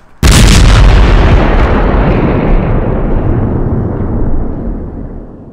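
Delayed firework dud suddenly going off, one very loud sharp blast followed by a long rumbling, crackling decay that slowly fades over several seconds.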